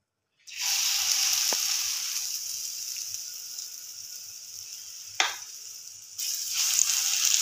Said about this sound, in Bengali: এবার আমি একটু এগুলোকে ভেজে নেব।